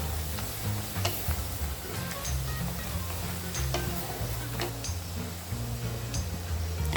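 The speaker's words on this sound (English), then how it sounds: "onion, fry for a minute or two" Chopped onion fries in a pan for an Indian mashed eggplant dish, giving a steady sizzle broken by sharp ticks and clicks of stirring.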